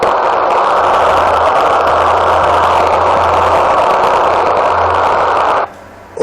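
A Texmex 29 CB radio tuned to channel 19 gives a loud, steady wash of static hiss that cuts out abruptly just before the end.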